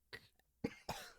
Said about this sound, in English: Gay uncomfy cough